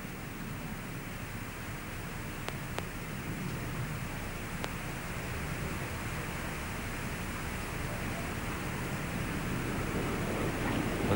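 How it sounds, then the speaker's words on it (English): Steady rushing wind noise as Space Shuttle Endeavour rolls out after landing on the desert at Edwards Air Force Base in 1994, with air whipping over the wings and through the deployed drag chute, a broad constant hiss that swells slightly toward the end. "the sound you're hearing there is just the wind whipping over the wings and through the parachute"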